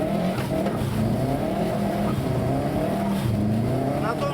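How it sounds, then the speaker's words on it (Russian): A race car at a Buryat auto racing training session slides wide in a turn under too much throttle. The engine drones loud and close without a break, with rough tire noise mixed in. "ты больше газу дал и не попал в поворот. У тебя произошел снос автомобиля."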